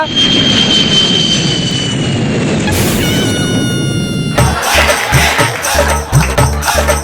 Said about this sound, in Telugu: పైనుంచి ఫ్లైట్ వెళ్తుందిగా.